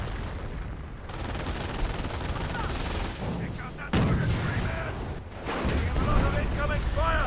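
Artillery barrages and small-arms gunfire in the Company of Heroes strategy game, with loud continuous rumbling blasts and dense crackling shots. A 25-pounder field gun is firing on grenadiers, and a commentator talks over the sustained battle noise.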